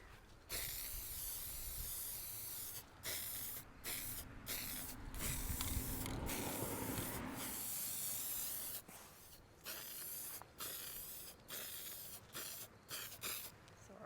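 Hammered silver spray paint hisses from an aerosol can onto dollar store decor, a series of short and long bursts outdoors with some wind, fairly faint.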